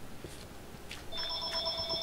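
A telephone ringing, with bright electronic ring tones starting partway through and sustaining steadily after a few faint clicks and thumps, fairly close with no talking.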